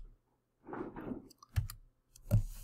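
Computer mouse clicks and a press of the Enter key in quiet surroundings: a soft rustle of movement, then two crisp, separate taps close to the microphone.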